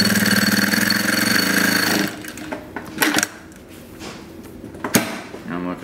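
AtlasUSA AT9312 D4 heavy duty sewing machine stitching through six layers of leather, a loud, fast, steady mechanical whir for about two seconds, then stopping, followed by quieter knocks and handling sounds.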